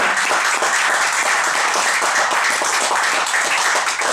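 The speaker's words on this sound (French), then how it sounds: "Est-ce que nous pouvons acclamer pour nos jeunes?" A church congregation claps loudly for its young people, a dense, sustained burst of many hands applauding together at close range with no pause.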